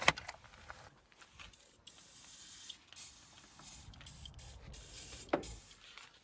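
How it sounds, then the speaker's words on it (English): A steady hiss of an aerosol can spraying for several seconds, fairly quiet, with brief breaks and a few small clicks. "I just sprayed an empty hole."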